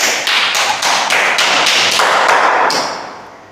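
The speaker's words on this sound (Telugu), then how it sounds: "Very good. క్లాప్." A group of children at a Bible class clapping in unison, about nine loud, evenly spaced claps close by, with a quiet tail at the end.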